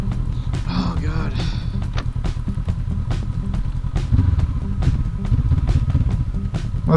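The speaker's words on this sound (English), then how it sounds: "This is a dually coming in here." A dually pickup truck arriving, its engine rumbling low and steady and growing slightly louder toward the end, with a voice speaking briefly over the noise.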